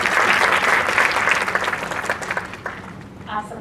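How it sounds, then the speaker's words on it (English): An audience at an inspirational stories event welcomes a guest speaker with loud, dense applause that tapers off, and a voice speaks briefly near the end. "Let's welcome Mrs. Shivani Agarwal with a huge round of applause."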